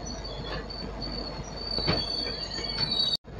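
Shatabdi Express running on rails out of Vikarabad, heard from inside the coach as a steady rumble with thin metallic wheel squeal, moderately loud and unbroken, then a brief sharp dropout near the end.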